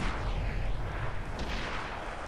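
Tank cannon firing in World of Tanks on Xbox 360, a Pz.Kpfw. V/IV: a loud, dense, sustained boom filling the whole clip, with a rumbling low end and no talking.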